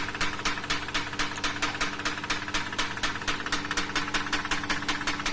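Chrysler 300 engine knocking steadily with a fast, even tapping rhythm over a running idle, close and clear with no voices.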